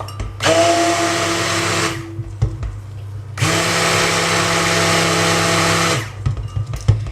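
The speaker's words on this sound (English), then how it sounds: "And use your stick blender." A stick blender whirs in two bursts, mixing cold process soap, the first about a second and a half long, the second about two and a half seconds, with brief quiet between.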